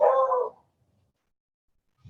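A dog gives one short, excited bark or yelp up close as someone enters the room, then everything falls silent.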